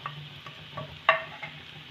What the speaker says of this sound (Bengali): আদা রসুনটা একটু ভেজে নেব, কাঁচা গন্ধটা যতক্ষণ না যাচ্ছে।